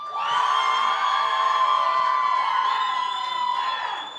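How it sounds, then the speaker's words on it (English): A live crowd cheers and whoops loudly for Green Bay Packers wide receiver Matthew Golden, a dense swell of shouts and yells that rises quickly and holds for several seconds before tapering slightly. "I do think Matthew Golden got the louder cheer tonight"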